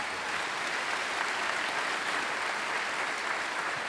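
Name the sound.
audience applause at a college commencement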